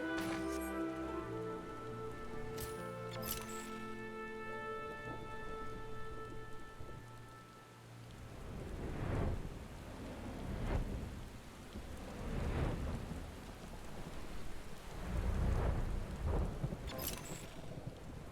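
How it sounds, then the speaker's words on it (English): A thunderstorm in the Final Fantasy XIV Endwalker game world: steady rain patters throughout while several rolls of thunder rumble low and heavy, the storm swelling louder in the second half, with no voices. "There's a thunderstorm."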